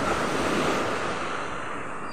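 Ocean surf rolling in at a beach resort, a dense steady roar of waves with some wind buffeting the microphone, loud and continuous, slowly easing toward the end without any talk.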